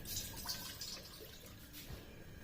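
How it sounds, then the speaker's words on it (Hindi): Half a litre of water is poured into a pan on the stove for stew keema, giving a quiet, continuous splashing and trickling with faint dripping throughout. "फ्लेम पर पैन रखना है और इसमें 1/2 लीटर पानी डाल देना है।"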